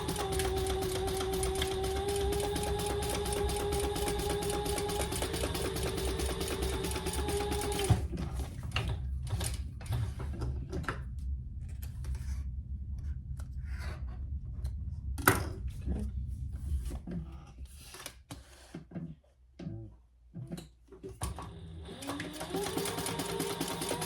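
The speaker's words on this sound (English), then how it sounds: "we're going to sew down both sides at the seam allowance in the pattern, leaving the top and the bottom open" A sewing machine stitches the side seams of a fabric sling at the seam allowance. A steady loud whirring run gives way to shorter stop-start bursts and clicks, close up and with no talking.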